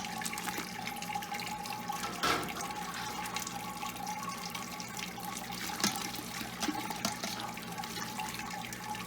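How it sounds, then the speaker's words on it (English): Sparge water trickling and splashing steadily through a grain bed during homebrewing, a continuous close liquid rush with a few brief louder splashes and no talk. "the water is running through the grain so quickly."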